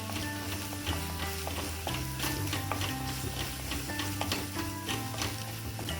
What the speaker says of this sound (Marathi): हे पण आपल्याला परतून घ्यायचंय मस्त.